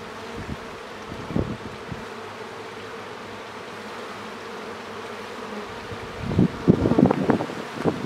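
Honey bees buzzing around a wine barrel hive, a steady close drone with louder passes as bees fly near, swelling into a busier burst of buzzing toward the end.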